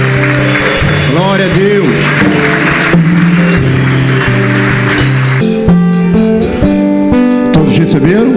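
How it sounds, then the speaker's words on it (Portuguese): A church congregation claps in praise during a worship service. The steady applause runs under singing, music and spoken exclamations, then thins out in the last few seconds. "Você pode aplaudir ao Senhor."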